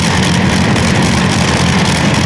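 A pulling tractor's engine roars at full power at an indoor tractor pulling event at Ahoy Rotterdam, a loud, dense, unbroken mechanical bellow with no voices over it.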